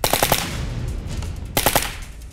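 An automatic air pistol of the kind used in military sport games fires two rapid bursts, each a sharp, loud string of close shots separated by a brief pause.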